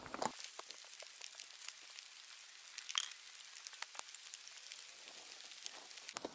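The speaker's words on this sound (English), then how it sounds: "Now it has stopped raining, but it's dripping off the trees." After rain, water drips from trees onto the ground and leaves in a quiet wood, scattered irregular taps and patters, some nearer and sharper, others soft and distant, with no voices.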